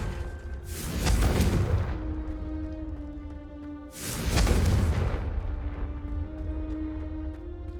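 Two Confringo blasting-spell explosions from Hogwarts Legacy, each a loud booming burst with a whooshing tail, spaced a few seconds apart over a steady low ambient hum.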